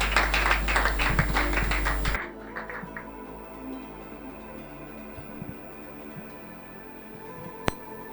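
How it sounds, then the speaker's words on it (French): Audience applause greeting contestant number 43 at a talent competition, a dense burst of clapping for about two seconds that cuts off abruptly into a quiet room. "sous vos applaudissements"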